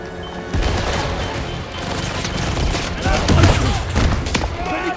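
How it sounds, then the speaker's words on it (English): Barrels blowing up in the 007 First Light video game, a dense run of booming blasts and crashing impacts over about five seconds, loud and close, with a busy background mix underneath. "Exploding barrels."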